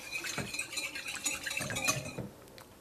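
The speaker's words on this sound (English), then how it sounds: "I'm gonna whisk those together with some salt, just to kind of emulsify it." A whisk beats lemon juice, olive oil and salt in a bowl, making quick, close clinking and scraping against the sides in a busy run that stops abruptly near the end.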